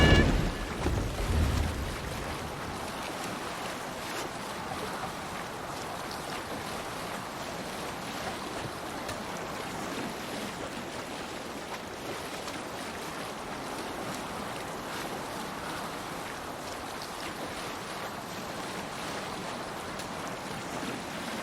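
A Viking longship sails across open sea in Assassin's Creed Valhalla, with a steady wash of waves and wind rushing around the hull, continuous and fairly quiet, no talking.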